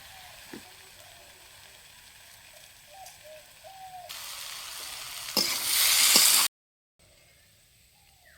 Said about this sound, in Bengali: মশলাটা এখন কষা হবে এই আলু আর সারের সঙ্গে সামান্য চিনি দিতে হবে